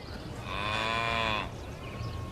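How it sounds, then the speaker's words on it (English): A dairy cow on a farm gives a single long, close moo that swells and then fades, with quiet ambience on either side. "Ever milked a cow before?"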